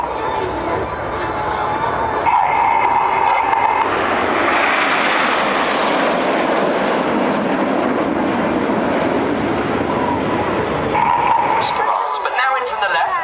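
Jets of the RAF Red Arrows display team roar overhead at an air show, a loud sustained engine rush swelling and fading as the aircraft pass, with a commentator's voice over the noise.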